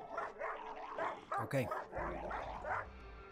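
Rimwolf creature from the video game RimWorld barking and yipping, a few short dog-like barks and whimpers at low level, with a voice speaking briefly.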